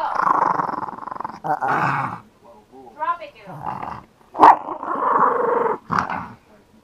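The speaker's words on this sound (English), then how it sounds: "You don't growl at me." A small dog growls in low, rumbling bursts over a ball, with sharper snarls and a yip mixed in, heard up close between stretches of a person talking to it.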